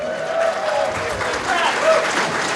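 Audience applause at a MAGFest convention panel, a dense sustained clapping from a large crowd filling the room, with faint voices and cheers mixed in.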